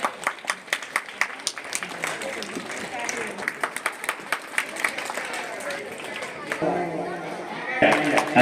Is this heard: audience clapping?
yes